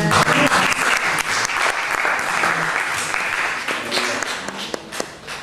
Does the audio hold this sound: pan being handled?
no